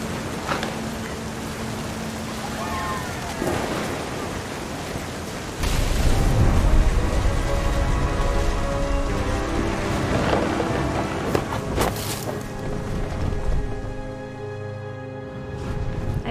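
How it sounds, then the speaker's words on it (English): Thunder rumbles and rain hiss through a stormy scene in the video game What Remains of Edith Finch, with a deep sustained roll swelling midway over steady broadband rain, moderately loud and without speech. "Thunder sounded much too close and full of angry power."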